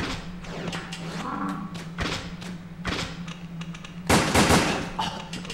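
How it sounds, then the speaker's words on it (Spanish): Gunfire in the PS2 game Resident Evil Dead Aim comes as several sharp, spaced pistol shots with a louder burst near the end, all over a low steady hum and without talk. "Te he dado bastantes tiros"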